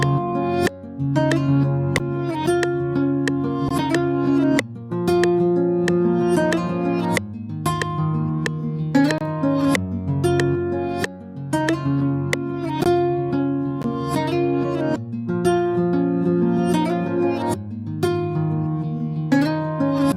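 Layered guitar parts, a reversed guitar line stacked over the original, play a continuous Afrobeat-style melodic loop with rhythmic plucked notes and swelling backward attacks, steady and loud with no talking.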